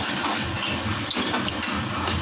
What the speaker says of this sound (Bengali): ভালো করে কষে নিচ্ছি